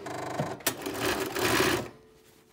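A sewing machine runs in a short burst, stitching two fabric pieces together with a fast mechanical whirr and clatter, then stops quietly.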